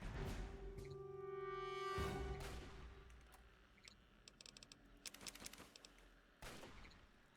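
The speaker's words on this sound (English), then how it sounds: "I don't know where that shooting's coming from." Bursts of gunfire crackle through a firefight in the video game Fallout 3's Point Lookout expansion, loud sustained volleys giving way to scattered sharp shots and a final heavy burst, with no voices over it.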